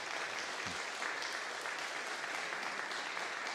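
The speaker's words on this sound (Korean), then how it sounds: "우리 박수로 환영하도록 하겠습니다" Even applause from a church congregation during a service runs throughout at a moderate, distant level, with no voices standing out.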